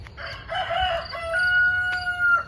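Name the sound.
rooster crowing in a garden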